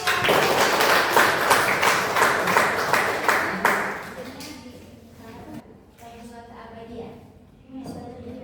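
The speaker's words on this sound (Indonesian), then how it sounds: "tepuk tangan dulu untuk" Students clap for a presenting group in a classroom, a burst of rhythmic applause lasting about four seconds that fades into a teacher speaking.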